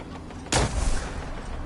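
A single loud, sharp gunshot from the video game Fallout 4 cracks out, then trails off into a rumbling tail over a steady background hum.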